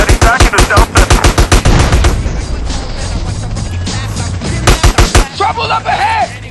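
Gunfire during a shootout in GTA San Andreas, loud rapid automatic bursts with single shots, close and dense, with a car engine and a shouted voice over it.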